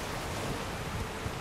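Steady, dense rushing water of a waterfall in Elden Ring, a continuous broadband roar at low level with no talk over it.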